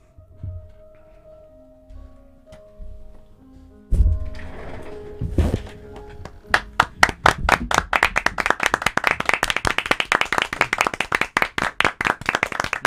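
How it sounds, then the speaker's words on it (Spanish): A man applauds, first with a few scattered thumps and knocks, then a long run of sharp, close hand claps in a fast, steady rhythm. "está aplaudiendo el Chapo"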